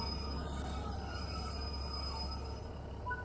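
A train in Train Sim World 3 on the West Cornwall line races through a station, a loud steady rumble of wheels on rails with thin squealing tones riding over it, continuous and close throughout.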